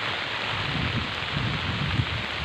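Rain falls steadily outdoors, a dense, even hiss with soft low patters throughout, continuous and fairly close.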